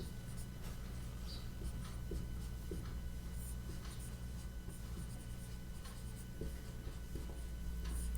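A pen writes out a class 10 maths solution on paper, with soft continuous scratching strokes and small taps close up, quiet and steady throughout.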